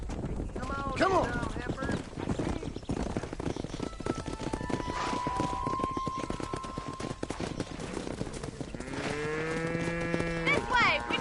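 In the video game Red Dead Redemption, cattle moo repeatedly over a busy scene of hooves clattering and people shouting, with several long drawn-out lows near the end.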